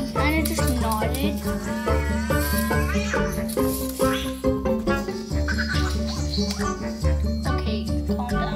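A cat meows and caterwauls repeatedly over loud, busy background music, reacting to a Cozmo toy robot in a game, with occasional jingling.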